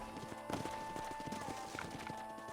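Horses' hooves clip-clopping at speed in the Red Dead Redemption video game, a busy, dense rhythm of hoofbeats under steady game music and ambience, with a voice briefly over it.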